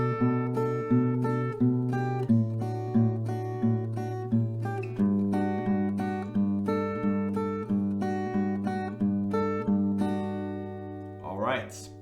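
An acoustic guitar plays the intro melody of a song, with a repeating bass note and plucked upper notes ringing out clearly and alone at moderate volume.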